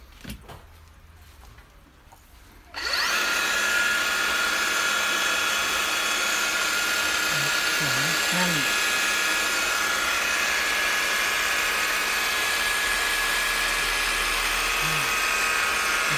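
A Makita DHR400 36V cordless rotary hammer whirs to life after a quiet start, then runs loud and steady with a high-pitched motor whine; a brief voice is heard early.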